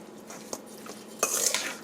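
A utensil clinks and scrapes against a bowl while seasoning is mixed into raw chicken necks, a few light taps followed by a brighter, busier clatter of stirring, close and fairly quiet.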